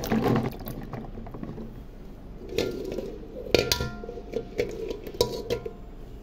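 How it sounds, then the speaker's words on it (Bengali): Eggs being washed in a bowl, with clinking and knocking of shells against the bowl, some water handling and brief louder clatters, no talking. "ডিমগুলো একটু ধুয়ে নিচ্ছি"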